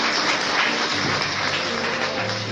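Steady, dense clapping from a church congregation rings out continuously at even loudness, with no voices over it.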